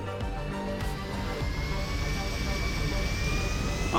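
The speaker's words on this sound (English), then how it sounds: "Guys, I think I can get this airplane off the ground" Airplane engine in GTA 5 roleplay during a Halloween purge night, a steady broad roar with rising whine tones that grows slightly louder throughout, with voices talking over it.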